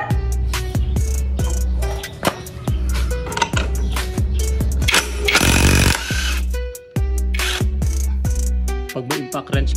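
An impact wrench fires repeated short bursts of rattling hammering while loosening the CVT cover bolts on a Yamaha Aerox V2 scooter, loud and close with brief pauses between bursts.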